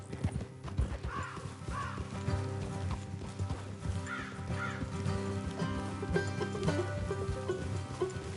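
Steady clip-clop of horse hooves trotting throughout in Red Dead Redemption 2, with background music and occasional crow caws.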